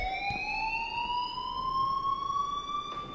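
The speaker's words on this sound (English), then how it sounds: "please turn off that alarm since that's your job" A school fire alarm in the video game Life is Strange rings as a steady, loud electronic tone that slowly rises in pitch, heard alone without talk.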